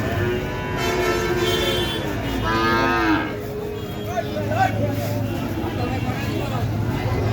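Friesian cattle moo loudly at close range at Baneshwar cattle market, a few drawn-out calls rising over a busy background of crowd chatter and distant traffic.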